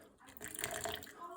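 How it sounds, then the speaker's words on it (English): Water pours into a batch of Hainanese-style chili sauce, a faint splashing trickle lasting about a second, quiet and close. "I'll add some water, just to thin it out a bit."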